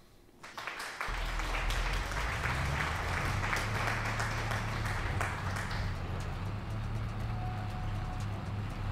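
Applause played for the moderators during a Farming Simulator 22 livestream, a steady stretch of clapping that starts abruptly and holds over a constant low engine drone.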